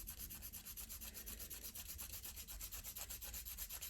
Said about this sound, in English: You can use this finger here to hold the side while you're filing.